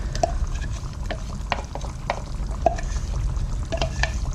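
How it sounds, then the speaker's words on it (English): Pureed fresh ripe tomatoes being stirred through a goat curry simmering over moderate heat, giving a steady low bubbling bed with soft intermittent scrapes and clicks of a spoon against the pot. "obviously stir that through and just continue to simmer this away on a moderate heat"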